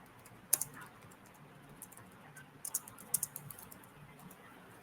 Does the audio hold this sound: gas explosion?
no